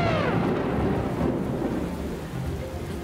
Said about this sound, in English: Trumpet the skies and herald the rain to begin.